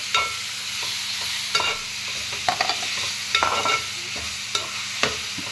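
Tomato curry being stirred in a frying pan, a spoon scraping and clinking in irregular strokes over a continuous close sizzle.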